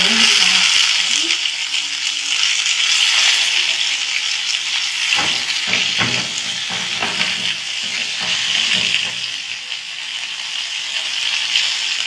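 Chicken shashlik sticks frying in oil on a flat griddle give a steady, loud hiss and sizzle throughout, with occasional scraping clicks partway through.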